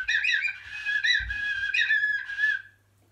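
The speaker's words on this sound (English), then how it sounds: "this Blackbird Call is beautiful. It's by the brand Flights of Fancy. And you just blow in and out." Wooden Flights of Fancy blackbird call with a small metal insert, blown in and out to produce several clear, warbling bird-like whistles in short bursts, close and fairly loud, then fading to quiet.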